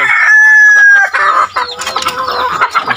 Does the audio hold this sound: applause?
no